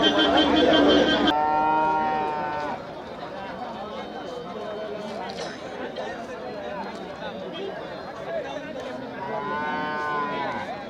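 Cattle low and bellow at the Manapparai cattle market amid crowd chatter and nearby voices talking, with long moos rising near the start and again toward the end.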